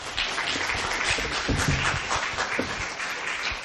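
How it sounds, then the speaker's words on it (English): Audience applause at a talk on psychedelics and the paranormal: dense, steady clapping from a room full of people, fairly loud and continuous throughout, with no speech over it. "Another round of applause for Sharon."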